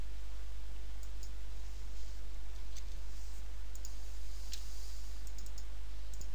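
Faint, sparse computer mouse clicks sound over a constant low electrical hum while a PC is being restored and rebooted, with no voices.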